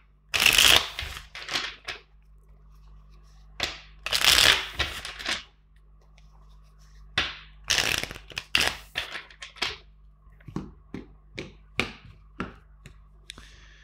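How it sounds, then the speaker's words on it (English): A deck of tarot cards is shuffled by hand in several separate bursts of crisp riffling and flapping, loud and close, followed by lighter taps and card slaps near the end. "Let's start by shuffling four times the deck"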